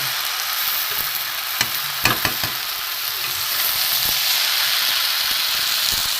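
Vegetarian cabbage curry sizzling in a pan, a steady bright hiss with a few sharp scrapes and clinks of a spoon being stirred through it near the middle.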